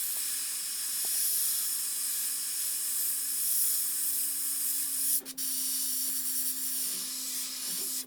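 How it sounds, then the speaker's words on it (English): An airbrush sprays paint onto a fishing lure in a trout pattern, a steady close hiss running throughout with a brief interruption partway through as the trigger is released and pressed again. "I'm going to try to hold the airbrush with 2 hands"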